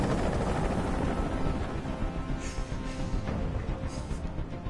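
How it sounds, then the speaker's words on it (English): Helicopter hovering in the video game Detroit: Become Human, a steady loud broadband rotor drone filling the whole stretch without a break. "Tell that helicopter to get out of here."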